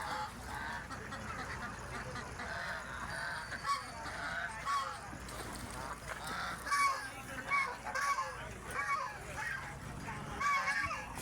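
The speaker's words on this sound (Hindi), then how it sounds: "ये बतख है जी।" Ducks and geese at the Diamond City zoo honk and quack in loose, overlapping bursts, moderately close, over steady outdoor ambience with faint voices now and then.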